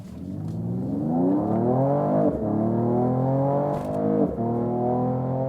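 A 2022 Mercedes CLS 53 AMG accelerates hard from 0 to 100 km/h. Its engine note climbs smoothly through rising sweeps, with brief dips at each gear change, and is heard steadily from inside the car.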